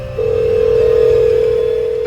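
A phone dial tone starts abruptly and holds as a single steady, loud electronic hum, with a low background rumble under it, as a frightened mother calls the police.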